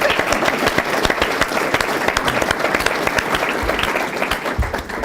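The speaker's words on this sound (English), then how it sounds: "And how about a round of applause for John Delano, the legend?" Applause rises from the audience at a Beaver County State of the County gathering as an honoree is recognized. The many hands clap in a full, steady roar that thins slightly near the end.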